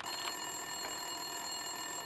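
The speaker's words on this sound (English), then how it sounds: "Winterson's phone was ringing." A desk telephone rings in the video game Max Payne 2, its steady electronic tone sounding alone in two short bursts over a constant background hum.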